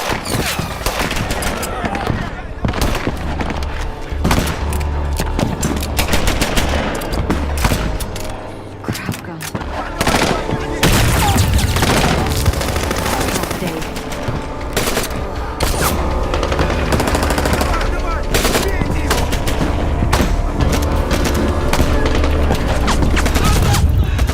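A scene from an action movie with sustained loud gunfire, rapid automatic bursts and booms over a dense, noisy soundtrack, with voices talking at times.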